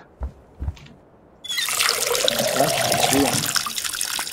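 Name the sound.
pouring water on a plant in Schedule I video game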